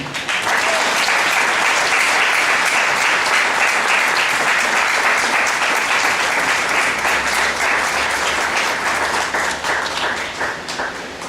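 A church congregation breaks into sustained applause honoring God, a dense, steady wash of many hands clapping at full volume for the whole stretch, tapering slightly near the end.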